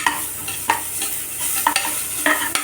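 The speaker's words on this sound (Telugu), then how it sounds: "కొద్దిగా అల్లం వెల్లుల్లి పేస్ట్ అండి, అది కూడా వేగనివ్వాలండి కాసేపు" Ginger garlic paste sizzles steadily in a hot pan, with a soft continuous fry broken by a few light stirring scrapes, close and alone without talk.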